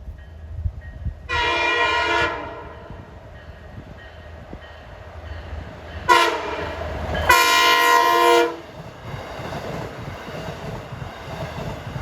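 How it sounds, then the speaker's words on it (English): A Montauk passenger train with six cars shoved by one engine sounds its horn loudly and close by: one blast, a pause with rumbling wheels, then two more blasts back to back, the last held longer. "You'll have 6 cars and an engine shoving, the maximum that one engine could push."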